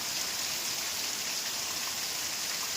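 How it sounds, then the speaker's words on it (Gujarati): Heavy rain pouring down in a steady, dense roar that holds at a constant level throughout, with no voices. "જોરદાર વરસાદ દરિયો થઈ ગયો છે"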